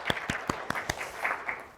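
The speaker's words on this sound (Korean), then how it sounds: "그런 의미에서 박수 한번 다시 부탁드릴게요." Audience at a privacy-protection training session for instructors clapping briefly, a few sharp, evenly spaced claps in quick rhythm that soften into looser, quieter clapping.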